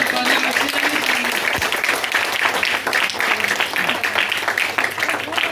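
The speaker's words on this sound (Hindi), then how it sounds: "जोरदार तालियां बजती हैं।" Enthusiastic applause fills a hall at a bhajan singing competition, a dense sustained clapping from an audience that holds steady throughout, with a faint tonal hum underneath.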